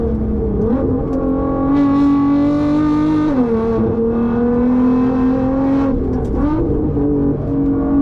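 A Nissan R35 GT-R engine drones loud and close on the Nürburgring, its pitch rising and dipping as it revs through gears, a steady high-performance roar throughout.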